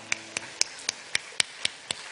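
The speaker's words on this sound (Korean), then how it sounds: "주님께 영광의 박수 올려드립니다" Church congregation clapping in a steady rhythm, eight crisp, evenly spaced claps that ring out sharply over an otherwise quiet room, fairly faint overall.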